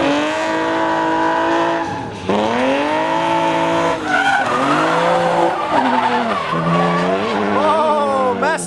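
Tires squeal and skid in long wavering screeches as a car drifts, with loud music blaring over the top throughout.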